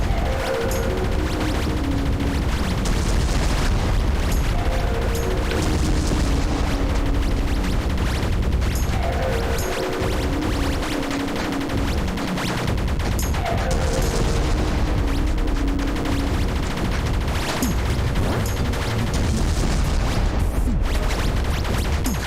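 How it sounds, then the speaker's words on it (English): Explosions from bombs in the Nintendo Switch game Ghost Blade HD boom repeatedly through a dense, loud, continuous wash of game music and shooting effects, with several heavier low bursts clustered mid-stretch. "I keep accidentally hitting the bomb"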